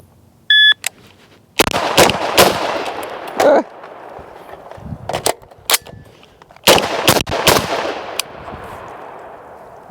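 A Sig MCX Spear LT rifle fires a timed shooting run, with loud sharp shots in quick pairs and short bursts separated by pauses, preceded by a brief timer beep.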